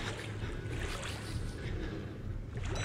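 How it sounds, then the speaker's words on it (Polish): Splashing and sloshing as the character wades through water in a dark area of the horror game Outlast, a faint continuous watery churn with a low rumble underneath. "To jesteśmy w jakiejś wodzie."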